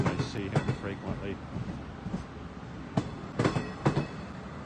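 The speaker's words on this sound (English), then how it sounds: "cab car 5014 of a six-car Kawasaki C3 bi-level passenger coach set." A Long Island Rail Road Kawasaki C3 bi-level passenger coach set, six cars with a cab car, rumbles steadily at a station, with a few sharp clanks and knocks standing out over the low rolling noise while people talk nearby.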